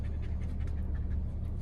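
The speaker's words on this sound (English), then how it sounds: "We have a freaking dog." A newly adopted dog pants close by in quick, steady breaths, with nothing else heard.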